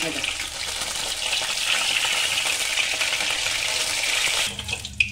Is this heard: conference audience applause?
no